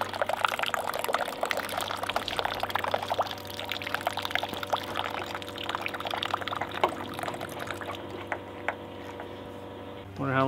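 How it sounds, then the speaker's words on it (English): Water pours steadily into a 40-gallon hot water tank for an off-grid cabin, a continuous close rushing trickle that runs for several seconds before easing near the end. "That's filling the tank right now"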